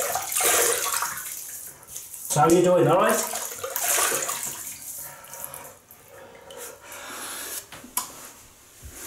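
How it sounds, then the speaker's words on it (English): Running water splashes from a tap while someone talks over it, the flow rising and falling as he rinses his face before shaving. "So I'm gonna, well, just rinse the face"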